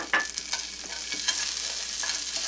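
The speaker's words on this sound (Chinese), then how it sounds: "把这个郫县豆瓣，四川的一种豆瓣下去煸炒一下" Pixian broad bean paste stir-frying in a little oil in a wok, a bright close sizzle with quick scraping strokes of the spatula at an uneven rhythm, no one talking.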